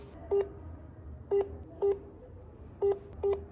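Five short telephone keypad tones sound in an irregular rhythm while a number is dialed to call a Delhi post office customs department, each beep brief and clear over a faint background hum.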